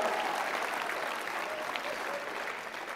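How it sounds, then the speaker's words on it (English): Steady audience applause at a political conference fills the room from start to finish, dense and even with no break. "give her a round of applause"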